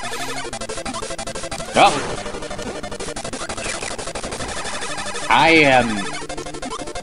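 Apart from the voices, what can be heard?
Kirby shooting an enemy in Kirby's Dream Land video game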